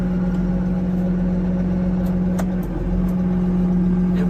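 Case IH 2594 tractor running steadily with a constant low engine drone and a steady mid hum, a brief shift clunk near the middle as the transmission moves into second range; no talking.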